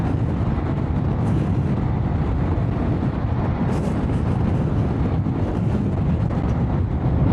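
Strong mountain wind buffets the microphone during a Royal Enfield Himalayan 450 motorcycle ride near Atal Tunnel, a loud and continuous low roar and rumble with no break.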